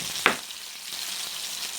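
Oil sizzles in a pan as something fries for a stuffed salmon meal on a home stove, with a single sharp crackle near the start, then a steady, soft hiss that continues alone.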